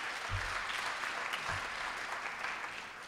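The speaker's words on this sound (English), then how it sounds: "that deserves applause." Indoor audience at a talk on an art program for incarcerated artists breaks into steady, dense applause that holds evenly for the whole stretch, with a couple of low thumps near the start.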